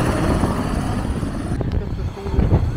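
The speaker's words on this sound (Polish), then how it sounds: "Zobaczcie, trafiliśmy samolot." A low-flying aircraft roars overhead as it comes in to land over Maho Beach on St. Martin, loud and close and sustained throughout, while someone talks excitedly over the engine noise.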